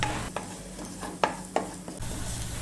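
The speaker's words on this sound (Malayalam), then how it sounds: "ഇനി എല്ലാം കൂടി ഒന്ന് നമുക്ക് പതുക്കെ വഴറ്റിയെടുക്കാം." Onions and chillies stir and sauté in a pan for a Bhutanese egg ema datshi, giving a steady soft sizzle broken by several sharp scraping knocks of the spoon against the pan.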